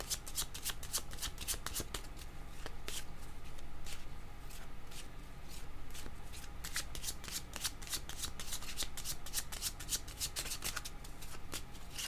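Cards being shuffled for a tarot-style reading, a steady series of crisp riffling flicks close by, quiet and without speech.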